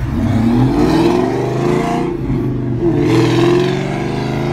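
A car engine revs hard and accelerates past nearby, its pitch rising in two loud surges as it speeds away.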